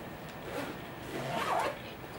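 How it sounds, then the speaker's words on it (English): A zipper drawn closed on a packed go bag, a steady rasping pull that swells in the middle and eases off, close and moderately quiet with no talk. "And then you zip everything up."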